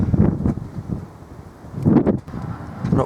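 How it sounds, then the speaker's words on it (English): Gusty wind buffets the microphone outdoors beside a Toyota Supra, in low rumbling bursts, with a stronger blast in the second half, and no talking. "Very windy, excuse the wind."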